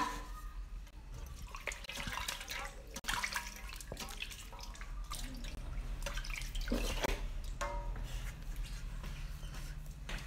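Running water from a tap as a face is rinsed clean of soap, a steady splashing and dripping stream with irregular bursts of spatter throughout, fairly quiet and close, with no talk.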